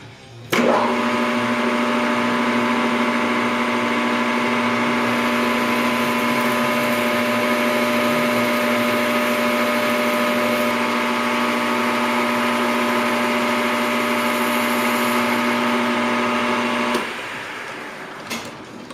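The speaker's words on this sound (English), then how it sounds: "We're going to go in 450 thousandths and bore it out to 1 inch OD." A metal lathe boring out a part to a 1 inch diameter, a steady loud motor whine with a fixed tone, running continuously for about sixteen seconds before spinning down.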